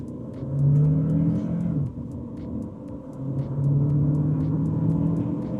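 A 2024 Chery Tiggo 7 Pro C-segment SUV engine pulls from inside the cabin, a deep rumbling drone that swells with two rising acceleration runs, separated by a brief easing off.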